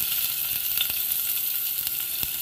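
Ginger, garlic and onion sizzle steadily in a little hot oil for clam soup, a continuous crackling fry with small pops, close and alone with no talking.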